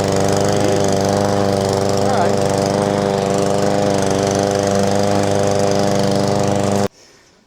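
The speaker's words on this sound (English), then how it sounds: "So this is a little louder than most mowers." A PowerSmart 22-inch self-propelled rear-wheel-drive lawn mower running loud and steady close by with a constant engine drone, cutting off abruptly near the end; a voice speaks briefly.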